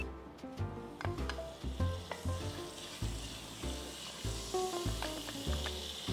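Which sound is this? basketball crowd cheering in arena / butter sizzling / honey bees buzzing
butter sizzling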